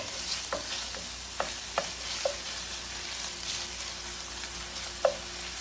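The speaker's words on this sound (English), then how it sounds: "So we're just going to let that cook for a couple of minutes with the garlic" Green beans and garlic fry in a pan with a soft, steady sizzle, and now and then a spatula clicks or taps against the pan nearby.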